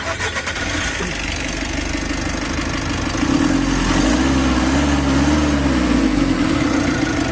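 A steady, loud Mitsubishi L300 Euro4 van engine idling nearby, prone to overheating, its low rumble rising slightly in pitch and intensity partway through, with no voices.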